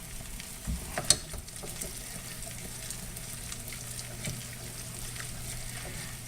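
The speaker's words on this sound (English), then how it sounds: "or technically it's the butter that's sizzling." Butter sizzling in a pan as burger buns fry, a soft, continuous crackling hiss with a few small pops, faint and steady throughout.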